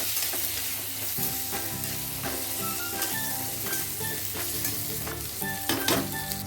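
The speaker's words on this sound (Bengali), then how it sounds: "আলুটা এভাবে লাল লাল করে ভেজে নিতে হবে" Okra and potatoes fry in a pan with turmeric and salt, a steady crackling sizzle with scattered sharp pops and occasional utensil clinks against the pan.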